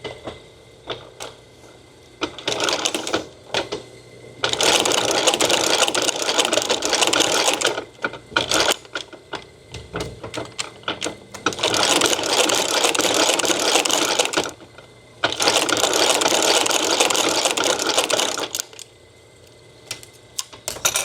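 Leather holster stitched with black thread on a sewing machine, running in three long bursts of steady rapid needle chatter separated by short pauses and scattered clicks, close and loud with no talking.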